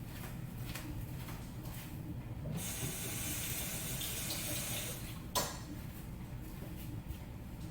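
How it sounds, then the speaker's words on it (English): A kitchen tap runs while a fork is washed under it, a steady close hiss of flowing water that grows fuller midway, with a brief clatter near the end. "let me wash my fork off real quick"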